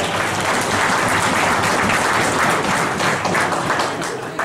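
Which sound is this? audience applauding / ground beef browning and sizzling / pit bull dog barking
audience applauding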